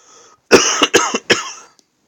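A man coming down with a cold coughs several times in a quick, close, loud burst of harsh, chesty coughs.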